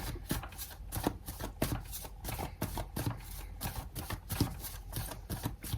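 Close, steady riffle-shuffling of tarot cards during a reading, with a rapid rhythmic flutter of cards repeated several times across the clip, and no talking.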